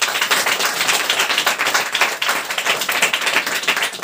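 A congregation at an Odia Christian service claps loudly and fast, many hands striking in a dense, continuous patter with small surges, close and energetic.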